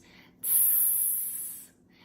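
A voice imitates food sizzling on a hot pan with one sustained hissing 'sss' lasting about a second and a quarter, close and breathy, fading out at the end.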